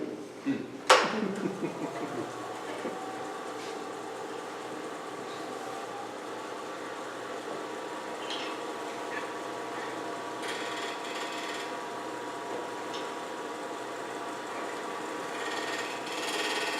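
A spindle gouge cuts wood on a right-handed lathe, starting with a sharp knock and then settling into a steady close whir and scraping hum with faint rattling, running on for over a dozen seconds with no talk.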